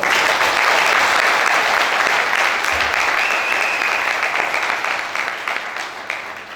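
Loud, dense audience applause at a success celebration event, sustained and steady before gradually fading toward the end.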